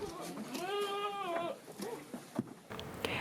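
Goats on a farm in Lumajang bleat in a long wavering cry followed by shorter calls, moderately close, with faint background noise between them.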